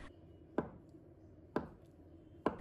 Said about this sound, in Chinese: 再改刀切成小方块。